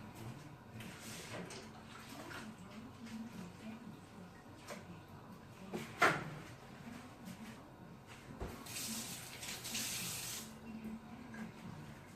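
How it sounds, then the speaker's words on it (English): Water runs from a kitchen tap and splashes in a sink while hands are washed, with clinks and a soft voice now and then, fairly quiet overall. "I'm going to wash my hands now that I've touched it"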